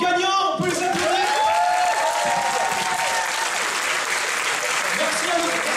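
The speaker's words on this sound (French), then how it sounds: "Et nous avons nos gagnants, on peut les applaudir." Convention audience at a Lyon geek show applauding quiz winners, a loud, dense wash of clapping that fills the room steadily, with a host's voice briefly over the start.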